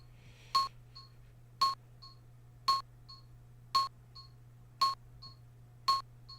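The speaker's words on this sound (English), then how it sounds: "That's the sound of the crystals." Bright crystal chime pings in the unreleased Saturn FMV game Sacred Pools repeat at a regular pace, each followed by a softer echoing ding, over a low steady hum.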